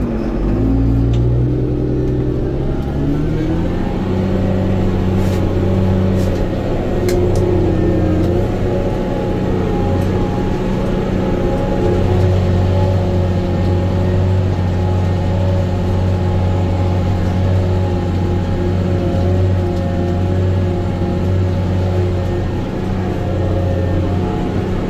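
A Valtra BH234 tractor pulls a levelling harrow, its engine droning loud and steady with a low rumble, briefly rising in pitch at the start before holding constant throughout.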